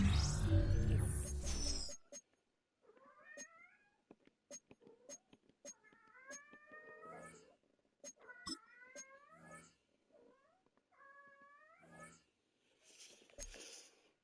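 A cat meows again and again at close range, each call rising and falling, between sharp clicks. A loud noisy burst opens the sequence.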